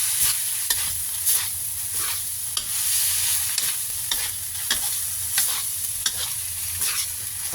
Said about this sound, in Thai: ผัด ทุกอย่างให้เข้ากันเลยนะคะ